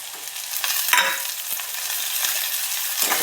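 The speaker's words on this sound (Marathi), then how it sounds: "टमाटा छान फ्राय करून घ्यायचा आहे." Onion and tomato fry in a pan with a steady close sizzle, with a few soft stirring knocks and scrapes in the background and no one speaking.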